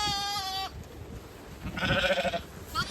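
Lambs and ewes bleat in a pen: a long, clear, high bleat opens, then after a pause a louder, lower wavering bleat follows, with a brief high call at the end over faint shuffling.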